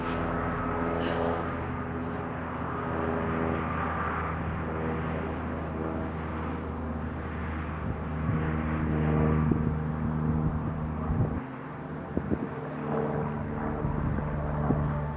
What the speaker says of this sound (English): As the plane's flying by here.